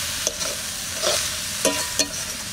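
Sikkim mountain greens are stir-fried plain with salt in a pan, giving a steady close sizzle broken by a few scraping stirs.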